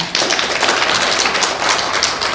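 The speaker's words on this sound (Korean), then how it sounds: "큰 박수로 환영해 주시기 바랍니다." Lecture-hall audience clapping to welcome a guest lecturer at a national museum humanities talk, a dense, steady burst of many hands filling the room, close and loud with no speech.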